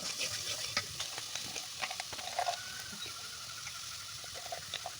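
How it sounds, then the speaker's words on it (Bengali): Spice masala for pigeon curry being stirred and sautéed in a pan, with a steady soft sizzle and repeated scraping stirs throughout, no talk. "সব উপকরণ দেওয়ার পর এখন আমি এটাকে ভালো করে কষিয়ে নেব।"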